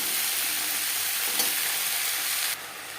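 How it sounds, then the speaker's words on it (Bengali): Green beans are stir-fried with a spice tempering in a pan for a vegetarian coconut dish. A close, steady sizzle and crackle continue throughout and drop slightly in level near the end. "ফোড়নের সাথে বিনস বেশ ভালো করে মিক্স করে দেবো।"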